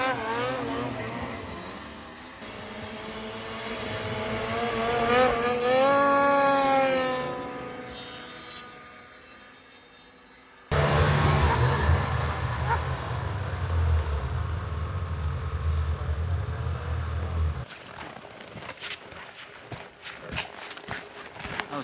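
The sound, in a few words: snowmobile riding down a back country trail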